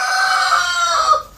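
Chickens crowing and clucking in a backyard coop, a sustained loud crow held close by with no talking.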